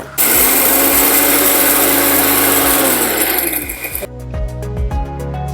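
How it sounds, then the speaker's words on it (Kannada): An electric mixer grinder whirs loudly and steadily as it grinds peanuts and sesame seeds into powder, then cuts off after about four seconds, leaving a short series of faint clicks and rattles. "ಈ ಸಿಪ್ಪೆ ಬಿಡಿಸಿರೋಂಥ ಕಡಲೆ ಬೀಜನ ಕೂಡ ಸೇರಿಸ್ಕೊಂಡು ಈಗ ನಾವು ಇದನ್ನ ಪುಡಿ ಮಾಡ್ಕೊಳ್ಳೋಣ"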